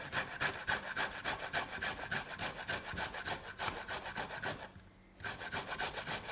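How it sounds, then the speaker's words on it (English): Fresh ginger is rubbed against a medium-sized grater in quick, regular rasping strokes, close and steady, with a brief pause near the end before the scraping resumes. "you can pretty much grate it if you have a medium-sized grater."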